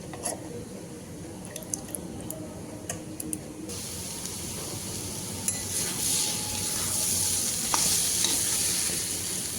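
Shredded cabbage for a vegetarian ghonto is stir-fried in a pan, with scattered clicks and scrapes of stirring giving way to a steady, growing sizzle, close and moderate with no talking.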